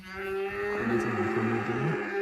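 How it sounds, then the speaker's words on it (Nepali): A cow moos in a long, drawn-out call at a high mountain village at Syangboche on the Mustang route, moderately distant and carrying over a steady outdoor background, with no talk heard. "गाई कराउँदैछ"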